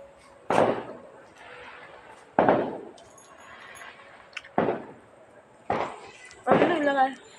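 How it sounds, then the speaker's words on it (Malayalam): Several sharp bangs go off one at a time with pauses between, festival firecrackers after a puja popping at a distance at night over a quiet background and occasional voices. "ഇവിടൊക്കെ പൂജ കഴിഞ്ഞു നല്ല വെടിയൊക്കെ കേൾക്കുന്നു"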